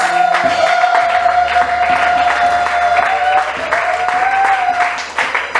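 A church congregation applauds and cheers loudly in praise of Jesus, dense sustained clapping with a high ululating cry running through it and voices scattered in the crowd.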